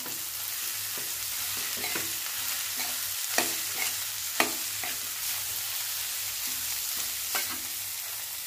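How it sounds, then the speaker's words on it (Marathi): Cabbage sabzi stirred in a hot pan, a steady sizzle under repeated spatula scrapes and a few sharper knocks against the metal, close and continuous. "आता हे मिक्स करून घेऊया।"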